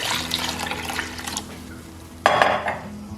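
Kadhi batter of yogurt, gram flour and water being stirred in a pot, a swishing, scraping churn with a louder clatter of spoon against metal partway through, close and steady with no talking.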